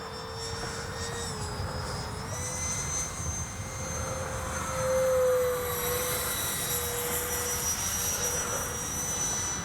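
A 3D-printed RC jet printed in lightweight PLA flies overhead with its motor running, a steady high-pitched whine and rushing roar that holds throughout and swells briefly as it passes nearer.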